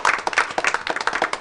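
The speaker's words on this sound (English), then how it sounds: "Give the weather team a round of applause." Applause from an audience at a school board of education meeting for the weather team, dense rhythmic clapping throughout, moderately loud and fairly close, with no talk over it.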